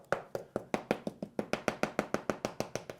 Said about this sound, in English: You can knock on the wall, so like if you knock, it seems quite solid